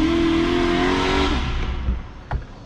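A pickup truck drives up a hill outdoors, its engine droning loudly at first and then easing off and fading as it rolls along, with a brief knock near the end.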